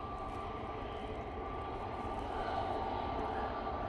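A Jet2 Airbus A321neo rumbles at Manchester Airport on a windy day, a steady broadband engine roar that holds constant and swells slightly toward the end.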